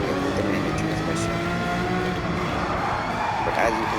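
A race car engine in the video game Gran Turismo 7 revs loudly and continuously with shifting pitch through gear changes, accompanied by tire noise, while someone talks over it throughout.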